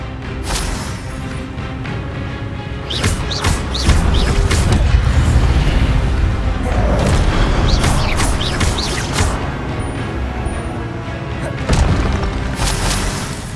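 Expelliarmus spell effects during combat in the Hogwarts Legacy video game, a series of booming magical blasts and crackling impacts over a dense, continuous rumble of battle noise.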